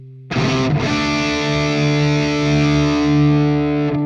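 Electric guitar played through a distortion effect on a Fractal unit: a loud sustained distorted chord that rings on steadily after a sharp attack, rich with harmonics, alone with no talk.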